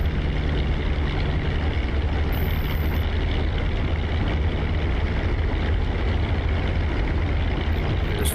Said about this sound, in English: Here comes the supercharger.